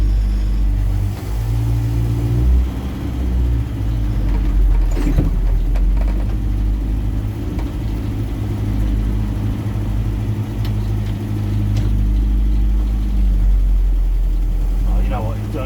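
A Land Rover Series 2a 109 engine rumbles steadily at low pitch while the vehicle is driven, with brief revving swells over the drone and people talking throughout.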